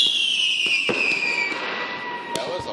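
Small consumer fireworks going off with a descending whistle followed by a few sharp pops and crackles, moderately close, with a voice briefly audible.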